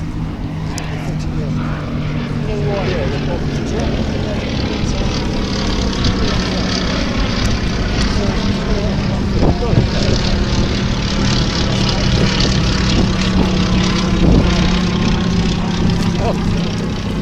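A Westland Lysander propeller aircraft flies an airshow display at Duxford, giving a steady, droning engine roar that holds fairly constant throughout while a commentator talks over it.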